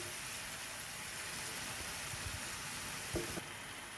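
Chicken masala sautéing in a hot pan for chicken Kolhapuri, a steady broadband sizzle running throughout at moderate level, with a brief stirring scrape near the end.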